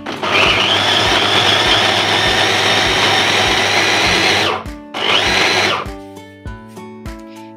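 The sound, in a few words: electric chopper chopping bread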